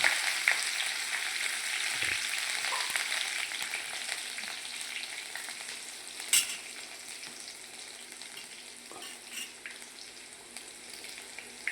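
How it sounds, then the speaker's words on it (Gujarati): Cumin and green chillies temper in oil over a low flame for a garlic curry, a soft continuous sizzle with occasional pops and stirring clicks, close and moderate in level, no talking. "હવે આપણે ધીમા ગેસે જ વઘાર કરીએ જીરું શેજ થાય ને પછી આપણે પેલું લીલું મરચું નાખી દો"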